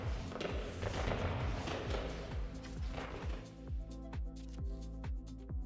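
Fireworks keep launching in the space game No Man's Sky, a dense crackling shower at first, then a steady series of thudding pops at even intervals, close and fairly loud.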